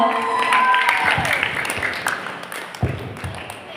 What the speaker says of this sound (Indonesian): Jadi mari kita beri aplaus.